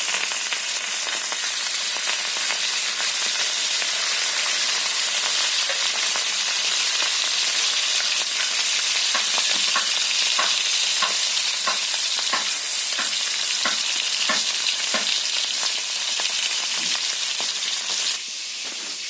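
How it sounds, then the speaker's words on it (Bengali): Fish frying in oil in a kadai gives a loud, continuous close sizzle, with a run of rhythmic spatula scrapes in the middle and a brief jump in hiss near the end; no one speaks. "তো কড়াইতে আমি মাছ দিয়ে দিচ্ছি বন্ধুরা।"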